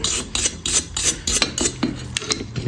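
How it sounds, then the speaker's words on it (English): A stainless steel brush scrubbed over aluminum before welding, a close rhythmic series of harsh rasping strokes. "Now I'm going to rub it again with some stainless steel."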